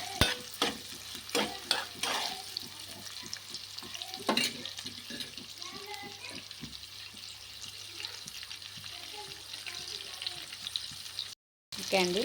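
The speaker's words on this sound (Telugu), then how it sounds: "కొద్దిసేపు అయితే మంచిగా వేగిపోతాయి ఆనియన్స్ బ్రౌన్ కలర్లో రావాలండి" Onions frying in oil in a pan for egg biryani, a continuous close sizzle with repeated spoon scrapes and stirring clatter, no talking, with a brief dropout near the end.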